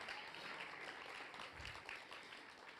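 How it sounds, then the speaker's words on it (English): Steady crowd applause, many hands clapping at once in a dense, continuous wash, fairly faint and distant with no voices on top. "Clap for them again. You can't clap for them enough."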